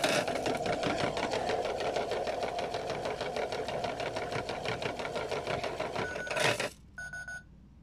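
A Kid Connection toy washing machine runs with a steady rapid mechanical whirring and rattling shake, loud and close, for about six and a half seconds before cutting off, followed by a faint beep.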